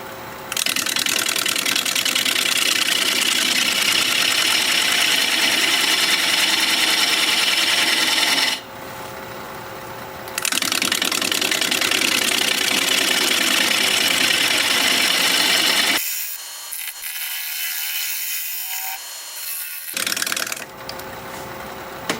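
A wood lathe turns a piece of cork wood while a tool shapes its outer edges, a loud continuous rasping whir that breaks off briefly twice and then resumes, with the second gap quieter and thinner.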